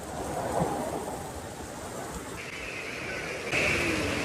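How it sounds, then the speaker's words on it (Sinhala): Torrential rain falls in southern Sri Lanka, a continuous soft broadband wash heard at moderate level, with a faint high tone entering partway through. "මාරම වැස්සක ඉන්නේ"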